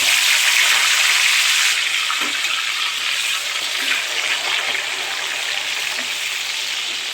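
Soaked cashews and raisins fry in hot ghee and oil with a loud, continuous hiss that eases slightly partway through, broken by a few soft stirring taps.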